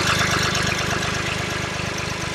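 A Lovol 254 tractor's engine runs steadily, a loud, rough, low rumble with a fast pulsing knock that continues unchanged throughout, with no talk.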